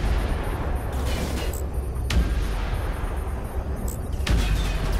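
Ship guns firing in the Fractured Space space combat video game, several heavy booming shots spaced a second or two apart over a dense, loud rumbling engine drone.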